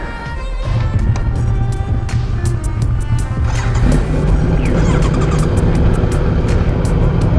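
A Kawasaki Z900 motorcycle engine runs loud and close, a steady low drone that swells after the first second and holds without a break throughout.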